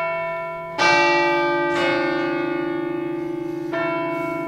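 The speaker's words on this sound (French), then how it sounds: "Remets-moi le son des cloches." A large church bell tolls three times at slow, uneven intervals, each strike ringing out with a long, humming resonance that lingers between strikes.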